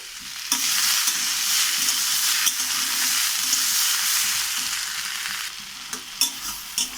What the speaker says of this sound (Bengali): এটাকেও আমি আরও কিছুক্ষণ নেড়ে চেড়ে হালকা করে ভেজে নেব